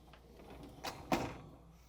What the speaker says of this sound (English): Now I'm going to install the lower dish rack